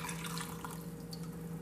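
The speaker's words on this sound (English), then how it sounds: "pour the chicken broth, the warm chicken broth, back in" Warm chicken broth is poured back into a pan of ramen with spam as a steady, soft liquid trickle and splash that stays fairly faint throughout.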